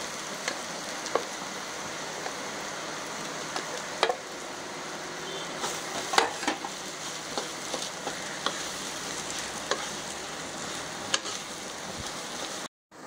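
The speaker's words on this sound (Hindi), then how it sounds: "मैंने आलूओं को मसाले में अच्छी तरह मिक्स कर दिया है और उसे 2 मिनट तक भून लिया है।" Potatoes frying in a pan while being stirred with spices for stuffed green bell peppers: a faint, steady sizzle with occasional soft scrapes and clicks, no talking.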